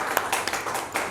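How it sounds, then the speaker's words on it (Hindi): Audience clapping at the Dadasaheb Phalke Icon Award Films event in Dubai, a brief burst of scattered hand claps, fairly close and moderately loud. "तालियां हो जाए उनके।"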